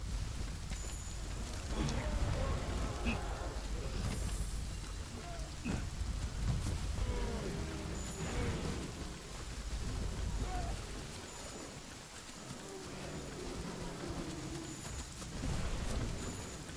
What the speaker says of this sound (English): The rain sound effect is nice, isn't it?